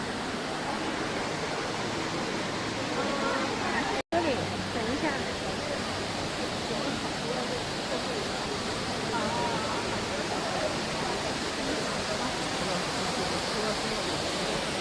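Heavy indoor waterfall in the Cloud Forest conservatory at Gardens by the Bay, Singapore, roaring as a steady broadband rush of falling water throughout, close and loud, with faint voices in the background.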